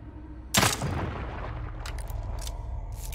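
A single loud gunshot in the survival horror game The Evil Within 2, a sharp close blast with a short decaying tail, set against a low ambient rumble and followed by a few faint clicks.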